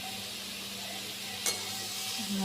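Beetroot sabzi sautéing in a pan, giving a steady broad sizzle throughout with a single sharp utensil tap midway and a faint low hum underneath.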